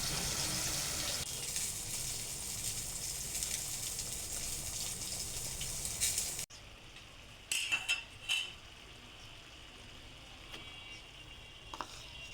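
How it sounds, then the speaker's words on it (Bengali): A curry of shing fish with potato, beans and tomato cooks in a pot, first with a steady sizzling hiss, then quieter stretches broken by clinks of a utensil against the cookware. "পরদিন আবারও রান্না চলছে, শিং মাছ দিয়ে আলু, শিম, টমেটো দিয়ে তরকারি।"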